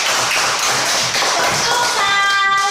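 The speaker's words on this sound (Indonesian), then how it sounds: "Tepuk tangan untuk Ona." Classroom of pupils clapping hands together, dense steady applause at close range for a few seconds with a brief whistle-like tone near the end.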